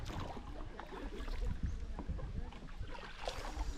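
A kayak moves across shallow water in Goa, with continuous splashing and water movement mixed with a steady rushing wash, close and fairly loud throughout with no voices.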